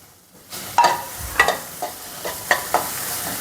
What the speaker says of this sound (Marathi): त्यानंतर आता हे जे टोमॅटो आहेत ते ह्यामध्ये मी घालून घेते.